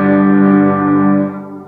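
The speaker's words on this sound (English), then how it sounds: "So if I'm running just a light overdrive kind of sound" An electric guitar with a light overdrive effect rings out a single sustained chord, full and slightly gritty, decaying over under two seconds with no talk.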